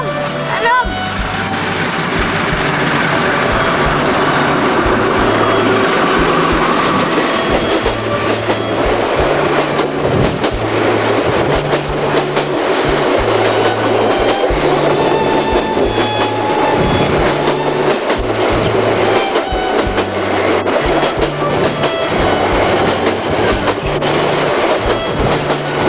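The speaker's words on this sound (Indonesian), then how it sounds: "Ini keretanya Om." A train rolling past on the railway, a loud continuous rumble with a steady rhythmic clickety-clack of wheels over rail joints running throughout, close and sustained.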